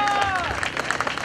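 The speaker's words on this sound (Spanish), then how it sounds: "que se escuchen esos aplausos" Wedding guests applaud the couple at a silver (25th) anniversary wedding, a brief burst of steady clapping blended with voices and some tonal background sound.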